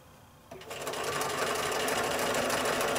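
Sewing machine stitching quilt binding, starting after a half-second pause and then running steadily with a loud, close, rapid needle chatter to the end.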